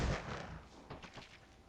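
Gunfire from The Thing video game, a few close, sharp bursts with heavy low-end impact at the start, then a quick rattle of lighter shots trailing off, with no talking.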